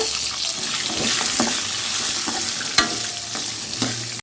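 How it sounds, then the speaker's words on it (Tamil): Shallots and grated coconut fry in a pan over medium flame for goat leg paya, with a steady broadband sizzle and a few sharp scrapes and clicks of a spoon as the mixture is stirred, no talking. "தேங்காவையும் சேர்த்துட்டு நல்லா கிளறி விட்டுறலாங்க"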